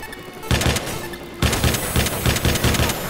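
Rapid automatic gunfire from the video game Watch Dogs 2 rattles in loud, dense bursts. A brief pause near the start is followed by sustained, close volleys with no talking over them.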